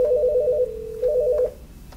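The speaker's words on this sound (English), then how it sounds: "So let me go ahead and call in here from another phone." Telephone ringback or dialing tones on a ShoreTel business phone system as a call comes in from another phone, two steady warbling tone bursts separated by a short pause, clear and alone.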